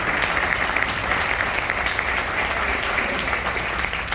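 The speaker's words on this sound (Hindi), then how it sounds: "एक जोरदार तालियां होनी चाहिए" An audience at a TIENS India training event gives steady, dense applause, a continuous loud wash of many hands clapping together throughout.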